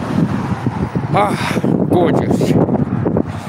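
Heavy wind buffets the microphone in a constant rumbling roar while a person speaks briefly over it outdoors at an axe-throwing venue in Gatlinburg.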